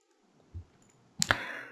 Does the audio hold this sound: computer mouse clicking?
yes